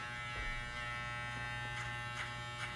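Wahl electric hair clippers hum close by in a steady, faint buzz, with a few brief rasping passes through hair.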